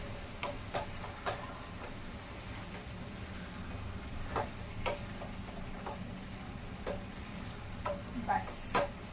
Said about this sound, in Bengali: তো এখন এটা আগে ভাজা যাক খুব ভালো করে, উপর নিচ করে দেবেন যাতে করে সসটা